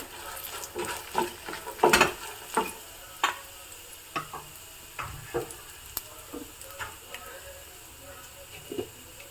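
Mustard seeds spluttering in hot oil for a tempering, a steady crackle of sharp pops and small bursts, some close and louder, over a faint sizzle.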